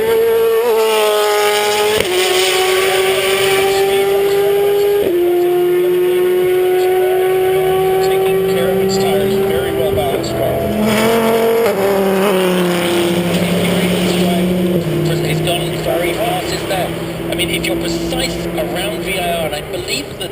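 A Ferrari race car roars along the bridge straight at VIR on race day. The loud, sustained engine note climbs through the gears with abrupt pitch drops at each shift, and a voice talks over it.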